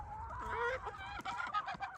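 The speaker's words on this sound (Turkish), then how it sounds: "Şöyle beyaz tavuklarımız var" White village chickens cluck and murmur close by in a series of short, uneven calls, with light farmyard noise beneath and no speech.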